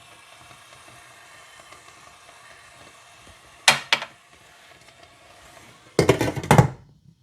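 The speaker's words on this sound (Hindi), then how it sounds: "मैं अभी इसमें काली मिर्चें डालकर 4 से 5 मिनट के लिए हल्की आंच पर दम लगा लूँगी।" Chana dal with spinach and black pepper simmering on low heat, giving a soft steady sizzle with two louder bursts of stirring or frying noise near the middle and end, no talk.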